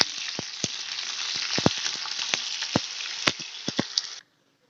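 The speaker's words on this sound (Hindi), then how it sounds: "नीम के पत्ते ऐसे आपने डाल के इसको साड़ लेना अच्छे तरीके से।" Neem leaves frying in oil, a loud close crackling sizzle peppered with sharp pops and spoon taps while being stirred, cutting off abruptly near the end.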